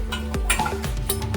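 A glass kadhai lid and freshly cleaned dishes clink together in a few light, bright taps close by, with nobody talking.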